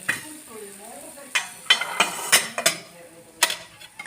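Tomato sauce sizzling in a pan as water is added, with scattered clinks and taps of a utensil against the pot, close by and moderately loud.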